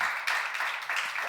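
Church congregation clapping together at a seminar, a steady broadband patter of many hands with brief swells, fairly close and continuous without voices.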